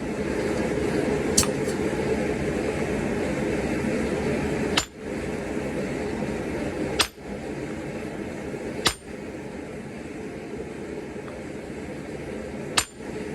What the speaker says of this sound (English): I'm coming in here and just striking with a heavy hammer, trying to pull that material out.